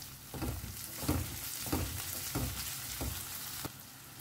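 Chopped tomato for a Goan vegetable caldine sizzles steadily in a pan while a spoon stirs it in about five regular strokes, close and fairly soft, with no voices.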